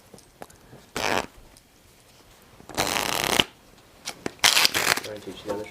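Playing cards being riffle shuffled by hand, three short crisp bursts of fluttering card edges at close range, separated by quiet pauses and softer handling noises.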